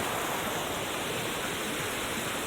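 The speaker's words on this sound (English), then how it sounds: "I had to just capture the sound of this water for everyone" Steady rushing water of a mountain stream flows without pause near Forester Pass on the John Muir Trail, a dense continuous wash that sounds close and full, with no voices.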